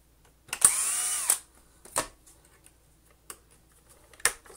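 Power drill backing screws out of a Shark AX950 Apex DuoClean vacuum head: one whirring burst about a second long, then a short whir and several sharp clicks and taps nearby in otherwise quiet surroundings.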